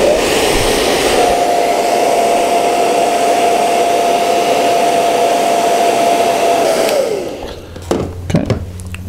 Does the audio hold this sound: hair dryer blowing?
yes